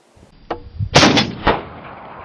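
Sharp reports from a Marlin XT-22 rifle firing at a steel plate 288 yards away, a faint early crack followed by a loud close shot with a ringing tail and one more crack, outdoors with no talking.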